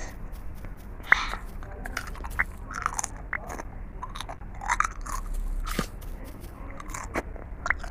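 Crunchy spicy chips being bitten and chewed close up, with irregular sharp crunches and crackles scattered over several seconds beneath a low background murmur.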